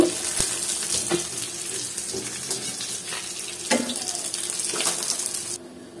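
Koi fish frying in hot oil in a pan for a spicy oil-koi curry, giving a steady close crackling sizzle with a few sharp clinks and stirring knocks, no voices.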